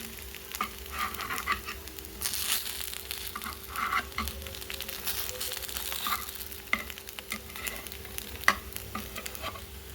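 Appe sizzle steadily in an appe pan while being turned over one by one, with close, loud frying hiss and repeated sharp clicks and scrapes of the flipping tool against the pan.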